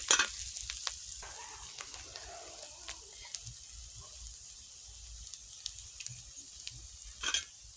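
Masala sautéing with kasuri methi and a little Maggi masala, a faint sizzle under scattered sharp spatula scrapes and taps, with a louder scraping burst near the end.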